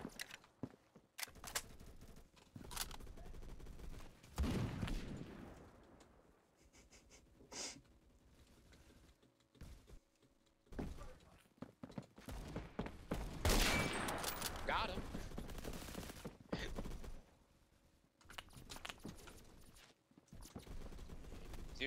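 Gunfire from the video game Phantom comes in bursts of rapid shots, with quieter stretches and footsteps between them and loud volleys near the middle and the end.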